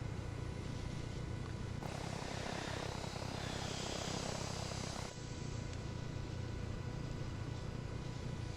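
V-44 Blackfish VTOL aircraft in a video game flying with a continuous broad engine and rotor roar that swells in the middle, heard steady from the cockpit with no talk.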